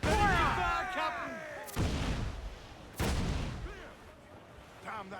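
Cannon broadside fire from a pirate ship in Assassin's Creed IV: Black Flag, with several loud booming blasts at intervals over background battle noise, while a voice shouts over the opening blast.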